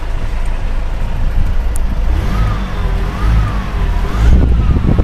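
A 2005 Ford Everest 2.5 TDI diesel with manual gearbox idles with a smooth, low, steady rumble, while a wavering siren passes faintly in the background.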